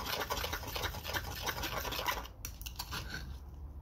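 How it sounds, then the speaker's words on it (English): Liquid lure-making plastic mixed with blue and green glitter is stirred in a container, a close, quiet, continuous scraping and rubbing with a rhythmic swish, fading into a few lighter taps near the end. "give it another stir."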